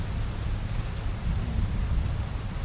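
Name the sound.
rain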